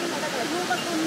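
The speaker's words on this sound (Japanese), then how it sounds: "これが霧降りの滝です。" The Kirifuri waterfall in the Yokoya gorge hisses steadily in the background while someone speaks over it during a brief moment.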